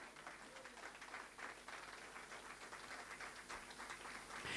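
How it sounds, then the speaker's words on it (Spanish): A church congregation claps in praise during a Spanish-language sermon, a faint, steady patter of applause heard from a distance throughout. "Dale un aplauso de gloria al Señor."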